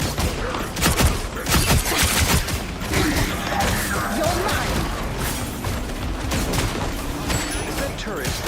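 A turret firing in the game Marvel Rivals, with rapid, loud repeated blasts and crashes that run continuously over the whole clip and sit under voices.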